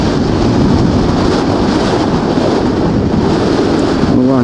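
Strong wind buffets the microphone while riding a bicycle outdoors, a loud continuous roaring rumble that fills the whole stretch, with a brief voice at the very end.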